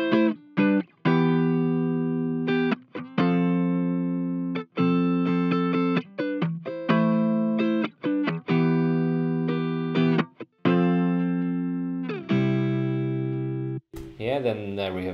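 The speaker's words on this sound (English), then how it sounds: "I have 3 different guitar tracks that I just recorded" A dry electric guitar plays a chain of picked notes and chords with crisp stops between phrases and no reverb tail, ending in a brief noisy burst.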